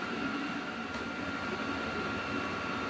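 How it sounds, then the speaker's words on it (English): A vacuum draws up sawdust from a freshly finished CNC cut of wooden pet leash hooks, giving a steady, unbroken motor drone with airy hiss that stays even and fairly close throughout. "I'm going to vacuum this and then we'll take a look at it."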